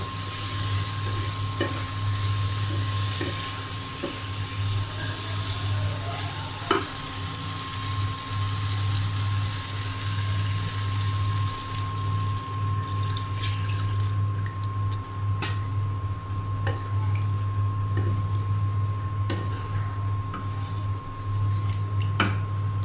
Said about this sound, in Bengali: এবার আমি ঝোলের জন্য পানি দিয়ে দেব।